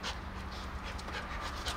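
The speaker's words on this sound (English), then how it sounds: "I don't know whose dog this is, but he keeps coming to say hi." A friendly visiting dog pants close by at a boatyard during sailboat restoration work, a quick steady huffing rhythm that continues throughout with no talking.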